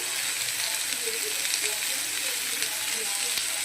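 Potatoes, eggplant and onion fry in hot oil, giving a steady, close sizzling hiss that holds evenly throughout with faint bubbling underneath.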